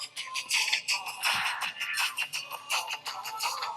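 Music from a phone plays through a small portable amplifier, a continuous, fairly loud stream with steady rhythmic pulses and no talking.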